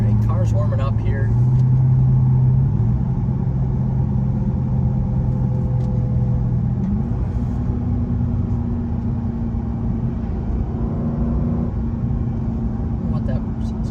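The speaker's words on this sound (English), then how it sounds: "alright, car's warming up here." A Chrysler 300C SRT8 engine idles while warming up with a steady low rumble and a faint hum, running continuously without revving.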